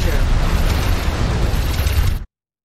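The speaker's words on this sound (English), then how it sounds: "I think that was the Wharf's docking bay that blew up" A docking bay on a Xenon wharf space station explodes in the space game X4 Foundations, giving a loud, sustained rumbling blast that holds steady for about two seconds and then cuts off abruptly.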